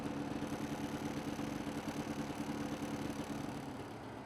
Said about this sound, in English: Start the engine and ensure there are no warning lights present.